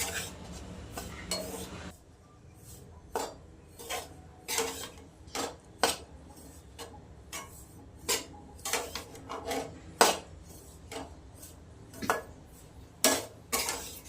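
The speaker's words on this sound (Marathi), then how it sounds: "मीडियम गॅसवर भाजून घ्यायचं" Grated coconut being dry-roasted in a pan over medium heat, with a repeated metallic scraping and clinking of a spatula against the pan in uneven bursts, close and without speech.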